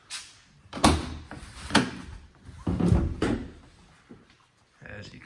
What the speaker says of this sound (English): I'll show you the inside of the van now, opening those doors.